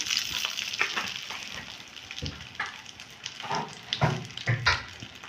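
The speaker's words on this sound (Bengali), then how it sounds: "এটা একটুখানি ভেজে নিচ্ছি সামান্য জিরে ফোড়ন দিলাম" Cumin seeds sizzle and crackle in hot oil for a Bengali tempering, a steady close frying hiss with scattered pops and a few stirring scrapes, no voices.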